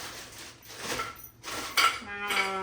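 A large, sturdy metal cooking pot used as an idli steamer is handled in a home kitchen, giving soft scraping knocks followed by a bright clang with a lingering metallic ring, fairly close.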